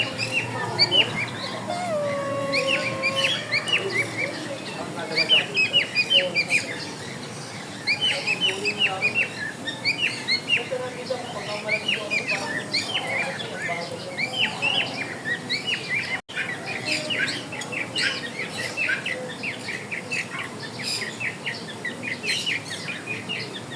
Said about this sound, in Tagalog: Anong mga ibon na itong malalaki sa baba?